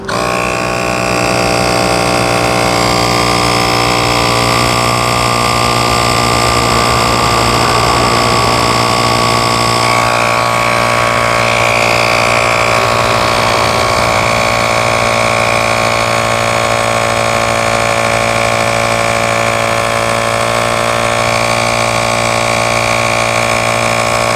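A portable tyre inflator pumps air into a tyre, its compressor motor running loud and close as a steady, unbroken buzzing drone for the whole stretch.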